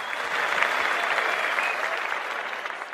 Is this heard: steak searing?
no